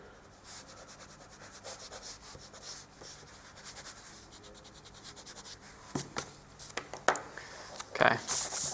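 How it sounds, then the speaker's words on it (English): Pencil lines on paper being rubbed out with an eraser while sketching a coffee table, a steady soft scrubbing that becomes louder and more broken into quick strokes toward the end, with a voice talking at moments. "So now we can rub these bits out here."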